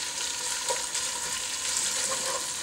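Bacon sizzling steadily in a pan as the base for plov, a dense continuous crackling hiss close up with small spits and pops and no talking.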